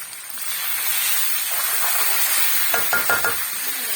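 Beef roast being stirred in a frying pan, a steady sizzling hiss throughout with a few clinking scrapes of the utensil toward the end, close and fairly loud.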